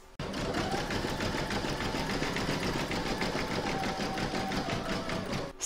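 An embroidery machine stitches a zigzag round over the raw edges of an in-the-hoop mandala placemat, a steady, close, rapid mechanical chatter running throughout with no talk.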